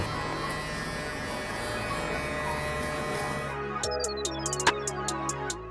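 An electric hair clipper with a guard buzzes steadily and close while cutting a buzz cut. It then switches to short, rhythmic bursts with brief pauses between passes.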